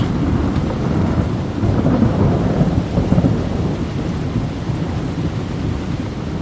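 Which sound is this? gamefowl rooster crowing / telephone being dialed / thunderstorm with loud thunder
thunderstorm with loud thunder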